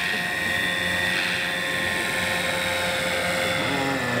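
Large-scale superscale Bell 429 model helicopter flying with an external load, a steady close whine and rotor buzz that holds constant throughout without breaks.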